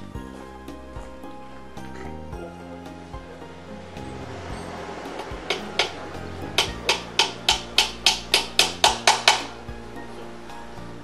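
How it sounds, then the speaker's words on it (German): Nails being hammered in a workshop: a steady run of loud, ringing metallic blows speeding into an even rhythm of about a dozen strikes over a constant tonal background hum. "Ich habe genagelt."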